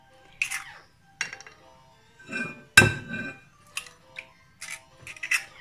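Ingredients for orange curd being mixed in a bowl, with bright clinks of a utensil against the bowl in irregular bursts and one louder knock, close and with no talk.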